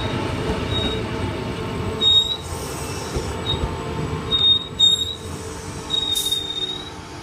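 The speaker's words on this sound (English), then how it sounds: "Ipswich Rosewood service arriving into platform number 3" Queensland Rail SMU electric train arriving at platform 3 of Wooloowin station, a steady low rumble of rolling wheels with repeated high-pitched wheel squeals and brake squeaks throughout.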